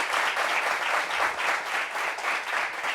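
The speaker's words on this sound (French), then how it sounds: "Applaudissements pour lui, s'il vous plaît." Studio audience on a French-language talk show applauding a guest, a dense, even wave of clapping from a sizable crowd that swells slightly in pulses and continues throughout with no speech.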